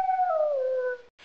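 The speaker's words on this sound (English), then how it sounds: "Fox." A fox howls in a kindergarten learning computer game, one smooth, falling howl, loud and alone, cut off abruptly near the end.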